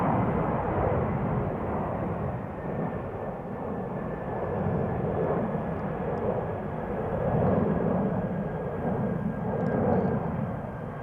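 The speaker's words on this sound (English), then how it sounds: "A330-200, it's the FWOF" An Airbus A330-200 taking off from runway 36L, the Polderbaan, at Amsterdam Schiphol: a continuous distant jet engine roar that swells and ebbs gently over several seconds, heard alone with no talk.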